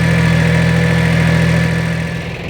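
A tractor engine runs loud and close with a steady low throbbing drone as it pulls a spring-tine harrow over a garlic field, easing off slightly at the end.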